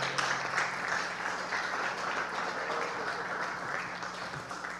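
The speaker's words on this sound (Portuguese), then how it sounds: "Fique de pé e aplauda o Senhor, aplauda bem forte" A church congregation claps loudly and steadily for the whole stretch, a dense wash of many hands with no break.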